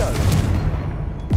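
The Confringo blast spell from Hogwarts Legacy, the game, gives a loud, heavy, rumbling boom that fills a brief burst of just over a second, dense and close.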